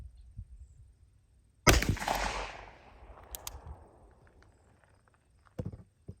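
Single sharp revolver shot, .357 Magnum/.38 Special fired from a 2 inch barrel outdoors, loud and close with a lingering decaying echo, followed by faint clicks and a soft thump.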